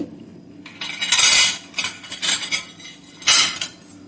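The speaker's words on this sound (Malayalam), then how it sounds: "3 ടൈപ്പ് സ്പൂൺസ് ഞാൻ ഇന്ന് ഇവിടെ എടുത്തിട്ടുണ്ട് കേട്ടോ." Three types of metal spoons are handled up close, giving a few bright clinks and clatters in quick clusters separated by brief quiet gaps.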